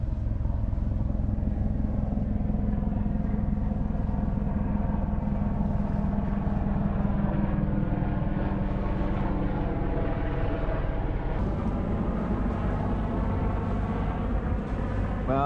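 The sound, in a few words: sailboat engine running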